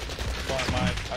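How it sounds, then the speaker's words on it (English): Rapid gunfire from a shooter video game crackles in a quick burst of sharp shots, fairly faint, with a voice faintly mixed in. "I got shot from behind."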